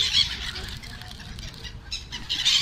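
Seagulls outside Baltalimanı hospital in Istanbul squawk and cry excitedly while being fed crackers, a busy, close flock of overlapping harsh calls that swell louder near the end.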